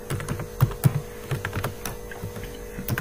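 Code is typed on a computer keyboard in an irregular run of close, crisp key clicks and thumps, with a faint steady hum underneath.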